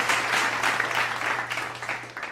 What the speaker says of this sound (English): Give him a clap up for that.